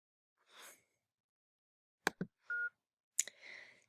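Phone app placing a call sounds a short sequence of dialing tones, including a steady mid-pitched beep, among soft breaths and clicks in a quiet room.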